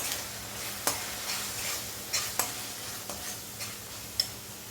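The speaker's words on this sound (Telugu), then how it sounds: "సరిపడినంత కారం, ఒకసారి అంతా కలుపుకుందాం." A spoon stirs chili powder through fish curry frying in a pan, with a steady sizzle under a handful of sharp scraping knocks against the pan, no talk.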